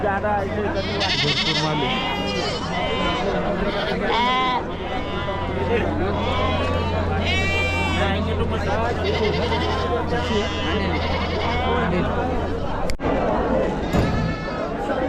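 Many sheep and goats bleat repeatedly amid a noisy crowd of chattering voices at a large livestock market in Chakan, Maharashtra, with a steady low hum running underneath most of the time.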